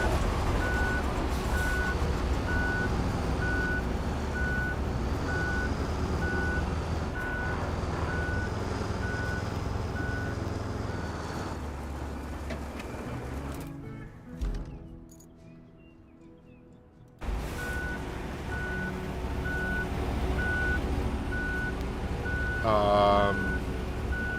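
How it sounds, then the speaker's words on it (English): A dump truck in the RoadCraft video game backs up, its reversing alarm beeping at a steady, even rhythm over a low engine rumble, with a brief quiet gap before the beeping resumes. "I'll move the dump truck, which has nothing to do with it, but I'll move it"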